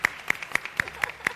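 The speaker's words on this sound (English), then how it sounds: "Shall we have a good round of applause?" Steady, rhythmic clapping from an audience at a panel discussion event, a brief run of even claps at a quick pace, fairly faint and without overlapping voices.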